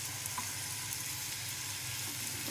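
Food frying in oil in a pan, a steady, dense sizzle that holds evenly throughout, close and fairly loud, with no voices.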